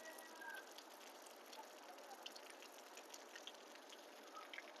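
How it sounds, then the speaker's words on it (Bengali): Heavy rain that has been falling for over half an hour, a faint, distant steady wash of hiss with small splashy peaks. "বহুত বৃষ্টি, যথেষ্ট বৃষ্টি হচ্ছে আলহামদুলিল্লাহ"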